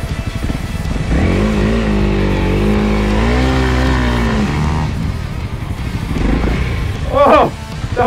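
A new Honda CRF300L motorcycle riding through soft dirt and sand, its engine revving and surging in waves with rising and falling pitch, close and loud, with a rider talking over it and wind buffeting near the end.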